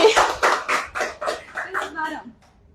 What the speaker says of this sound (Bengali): রোকসানা ম্যাডাম, তার জন্য একটা হাততালি।